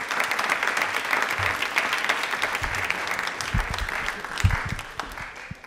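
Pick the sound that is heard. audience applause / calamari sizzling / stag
audience applause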